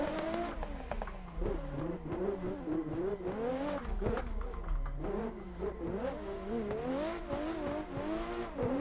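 A 2JZ-powered car drifting on a street, its engine revving hard and continuously with shifting pitch, loud and close throughout, with tire noise underneath.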